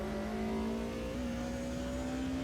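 A BMW touring car engine in a sim racing game holds a steady, rising drone with clear harmonic tones that climb slightly in pitch as it revs. It plays loud and continuous, with no voices.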